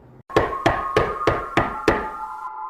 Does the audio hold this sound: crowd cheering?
no